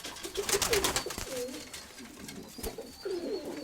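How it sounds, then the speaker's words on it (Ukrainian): Soft pigeon coos come and go against a busy, rustling background, repeating a few times at a moderate distance. "Ось такий голуб."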